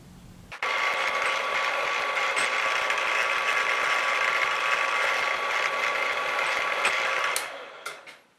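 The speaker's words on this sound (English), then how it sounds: "drilling the mounting holes for the shoe" Steady whining drill boring mounting holes into a metal belt grinder platen, running continuously and loudly for about seven seconds before spinning down near the end.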